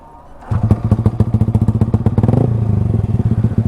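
A motorcycle engine catches and starts after a pause, then idles close by with a rapid, even, loud chugging pulse that settles slightly toward the end.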